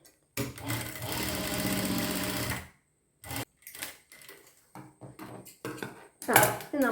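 Sewing machine stitching the collar of a sleeveless kurti, a loud steady run of rapid stitching for about two seconds, followed by short separate bursts of stitching and handling noises.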